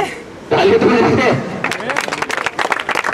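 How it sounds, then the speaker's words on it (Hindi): An audience at an Engineers Day bingo event breaks into scattered, lively clapping for the winner after a loud voice, with the claps continuing in uneven bursts. "हाँ करे हाथ ऊपर ताली तो देते"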